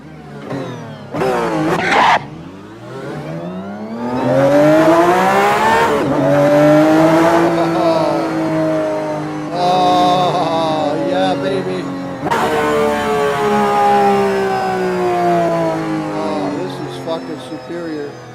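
A loud Porsche engine with a sound mod revs hard several times, pitch climbing and falling between bursts, close up and unbroken by talk.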